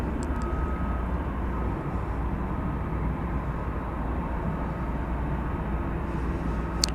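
A Singapore Airlines cargo plane on a runway at DFW Airport at night gives a distant, steady engine rumble and drone that holds evenly throughout.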